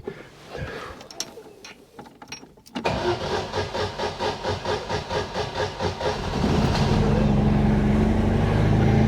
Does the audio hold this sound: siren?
no